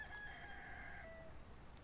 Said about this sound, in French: Le coq de minuit.